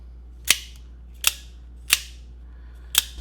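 Four crisp mechanical snaps of an automatic knife blade firing open, spaced about a second apart, sharp and close, each a quick metallic click over quiet background hum.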